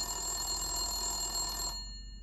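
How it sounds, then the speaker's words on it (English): A payphone rings with a bright, steady metallic bell tone for close to two seconds, then cuts off sharply, leaving only a faint trailing hum. No voices are present. "It's always weird when a payphone rings, don't you think?"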